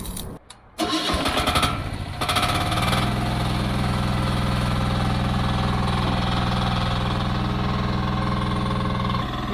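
A small mechanical mini excavator's engine coughs and catches after a few sputtering tries, then settles into a loud, steady idle that runs on without pause.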